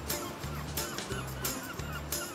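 A cartoon bird, nesting in a seashell, gives repeated honking calls, three or four loud goose-like honks in a quick steady rhythm, heard alone without talk.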